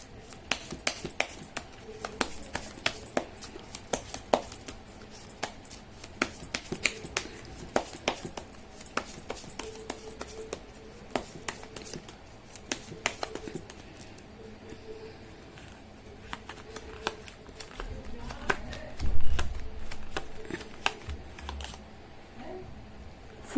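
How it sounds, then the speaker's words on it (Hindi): Tarot cards shuffled by hand in a quiet room, a long run of soft, quick papery riffles and taps repeating steadily, close and fairly faint, with a dull thump near the end. "मैं कर लेती हूँ कार्ड की शफलिंग"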